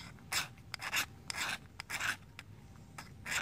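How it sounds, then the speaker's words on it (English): A magnesium fire-starter stick from a survival kit is slowly scraped with a metal edge, making a series of short, quiet rasping strokes with brief pauses between them. "use either one of these edges and scrape some of it off slowly."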